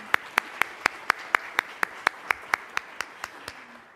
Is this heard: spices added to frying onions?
no